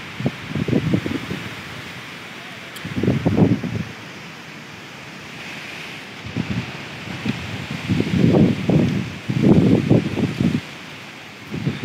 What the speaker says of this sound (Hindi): आधी तूफान चल रही है।